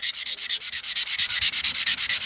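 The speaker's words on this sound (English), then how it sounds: "Just doing a little bit of light hand sand in here." Light hand sanding of a wooden piece, fast rhythmic back-and-forth strokes, about eight per second, close and crisp, with no voices.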